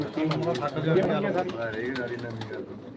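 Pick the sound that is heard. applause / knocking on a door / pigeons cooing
pigeons cooing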